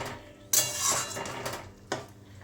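Mustard fish curry stirred in a pan, giving two sharp metal-on-pan clinks around a softer scraping, close and fairly quiet, with no talking.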